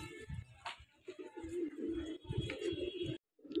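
Madrasi pigeons coo close by in repeated low, throaty rolling calls, several birds overlapping in uneven bursts, with a brief silent gap near the end.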